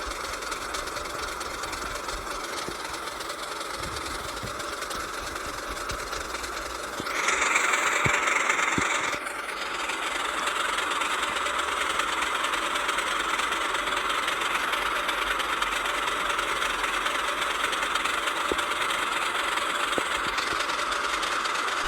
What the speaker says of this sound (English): this beautiful locomotive rushed through the station platforms